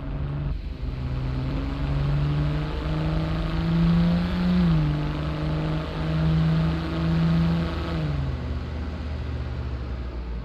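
A Volvo V60 Polestar engine in the City Car Driving video game drones and revs continuously, its pitch rising and dipping as gears shift, with no talking.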